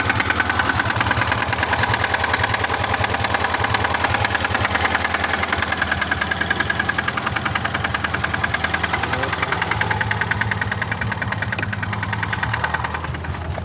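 A VAZ 2106 engine idles steadily just after starting, having sat unused for months, with a knocking rhythm and some vibration. The close, loud running continues for the whole stretch with no voices.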